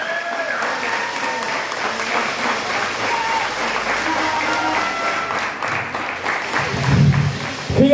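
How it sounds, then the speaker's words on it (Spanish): Lucha libre crowd applauding a wrestler, sustained clapping with voices calling out above it and a faint tonal hum, rising louder near the end as a shout or cheer breaks through. "El aplauso para él, por favor."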